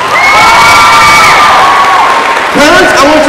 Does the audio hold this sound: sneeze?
no